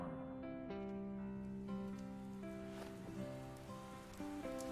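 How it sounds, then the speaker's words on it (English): Rain falls in the game Crisis Core Final Fantasy VII as a steady soft patter, heard beneath sustained game music with shifting chords. "and now it's raining"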